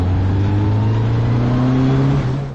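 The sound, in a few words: Formule Renault race car accelerating on track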